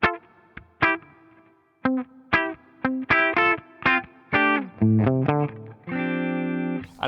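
An electric guitar through a Line 6 Helix clean, compressed preset with reverb plays a series of plucked notes and chords, each ringing out with a reverberant tail, ending on a sustained chord.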